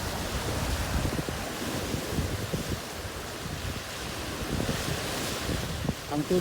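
Steady roar of rough surf and wind noise buffeting the microphone at a seashore, with waves washing in continuously at close range.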